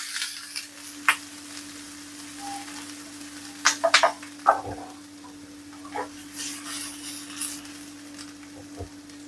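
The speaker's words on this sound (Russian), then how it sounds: "масло нагрелось. Давайте отправим наш лук." Red shallot and red onion hit hot oil in a pan with a steady sizzle and scattered sharp crackles and pops, up close and with no talking.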